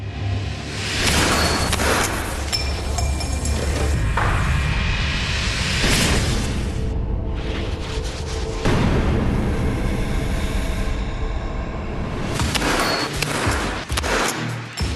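A gun fires a less-lethal round at a force-measuring test device, giving loud, sharp bursts and booms that repeat across the span with whooshing impacts and dense noise between them.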